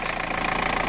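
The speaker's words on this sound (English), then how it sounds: "I'm just warming up the engine" A 2002 Vauxhall (Isuzu) Envoy van engine idles while warming up, a steady close-up mid-pitched drone with a faint rhythmic knock, continuous and alone.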